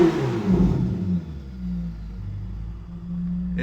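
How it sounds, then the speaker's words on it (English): 2020 Ferrari 488 Pista engine heard from outside the window, a loud throttle blip at the start that rumbles down into a low, steady idle drone. "I'm gonna give it a few blips just so you can hear the sound and hear just how happy and healthy this car is from an engine standpoint."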